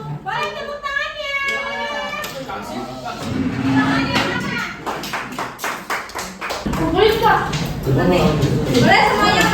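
An eighth-grade class at an Indonesian Islamic junior high school claps hands in several bursts of scattered and then fuller applause. A teacher's voice and children's chatter run underneath and between the claps.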